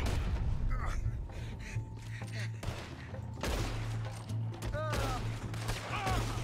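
Gunshots and shooting from the western video game Red Dead Redemption, playing under almost constant talking and a steady low game soundtrack with no clearly separated loud blasts.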